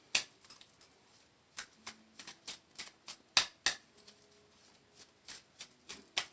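Tarot cards shuffled by hand, a brisk series of crisp clicking riffles and taps in an irregular rhythm, close and fairly quiet, with no voices.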